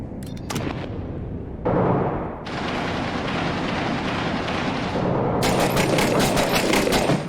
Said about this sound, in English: Hearing gunfire first floor.